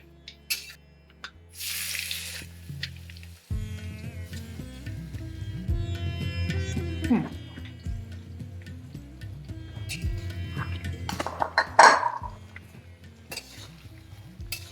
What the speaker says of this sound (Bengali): এরপরে আমরা পেঁয়াজ ভেজে নেব